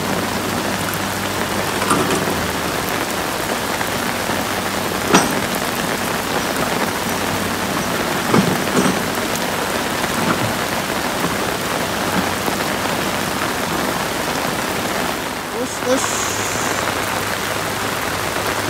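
Heavy rain pours steadily and keeps intensifying over a road repair site at Batu Jomba, a dense continuous hiss of drops hitting surfaces close by, with no voices.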